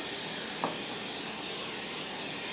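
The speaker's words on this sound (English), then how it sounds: "taking my non-stick cooking spray, I'm going to spray a lasagna pan" A steady, continuous spray of non-stick cooking spray hisses close up onto a lasagna pan for a few seconds without pause, with no one speaking.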